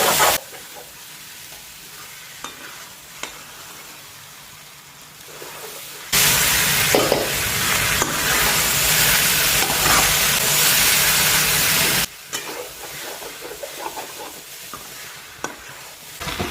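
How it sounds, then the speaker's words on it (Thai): Rice sizzles and crackles in a hot pan while being stir-fried and scraped, with the frying growing much louder in the middle stretch. "เวลาเราผัดเราก็ดันข้างล่างนะคะ จะได้ไม่ติด"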